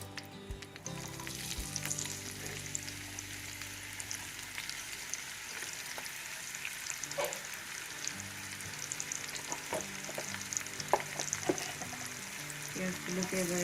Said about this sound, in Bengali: ওই মাছ ভেজে নেওয়া তেলেই আমি আরেকটু তেল দিয়ে দিলাম, দিয়ে এবার এখানে পেঁয়াজ দিয়ে দেবো